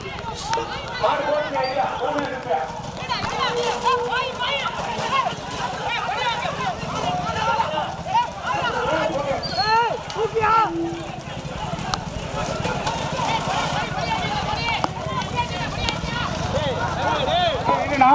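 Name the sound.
racing bulls' hooves pounding in a bullock cart race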